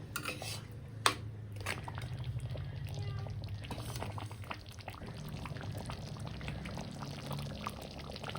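A small amount of water poured into a pan of cooking tomato and jujube chutney with jaggery, a steady liquid pour over sizzling and faint utensil clinks, close and moderately loud, with no talk.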